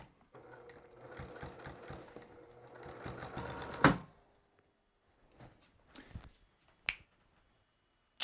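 Sewing machine stitching a minky weighted blanket with bead fill, running in a fast, steady mechanical chatter, then a sharp crack as the needle breaks on a bead, followed by quiet and a few scattered clicks.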